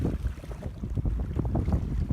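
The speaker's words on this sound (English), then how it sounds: "This river is not usually this choppy, but it's extremely windy and cold today." Strong, cold wind over a choppy river, gusting buffets and low rumbling against the microphone with lapping water beneath, close and continuous for a couple of seconds.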